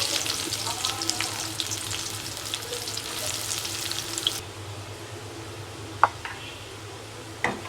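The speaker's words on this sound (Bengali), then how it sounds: "কড়াইতে তেল দিয়ে দিলাম আমি পেঁয়াজ" Onions fry in oil in a wok, sizzling steadily, loud at first and then quieter, with a couple of sharp clinks near the end.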